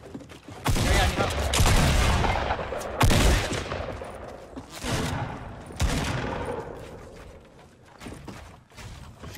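Bursts of gunfire from a Fortnite duos match, loud rapid volleys of shots with heavy low thumps, spread across the stretch and fading toward the end amid building clatter.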